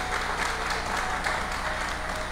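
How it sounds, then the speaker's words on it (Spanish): A congregation at a church wedding in Quito, Ecuador claps continuously, a dense steady sheet of applause with a low hum running beneath it. "no cansemos de dar aplauso a Jesús"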